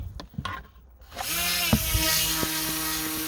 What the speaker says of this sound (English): So the UMX Timber X prop is on. It sounds pretty good.